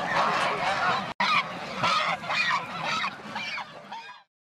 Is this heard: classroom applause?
no